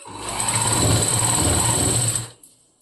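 Sewing machine stitching boat-neck blouse fabric, a steady close mechanical whir running continuously for over two seconds before stopping abruptly, alone with no talk.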